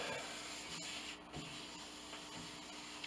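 Soft, continuous rubbing of a cloth polishing the wooden surface of an 1867 Chickering 33B piano, quiet and close, with faint scuffs and hiss.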